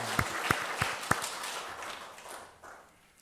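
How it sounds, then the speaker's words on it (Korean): A church congregation claps in a short burst of several loud, spaced claps that quickly thin out and fade into a quiet room. "우리 하나님께 영광의 박수 드립니다."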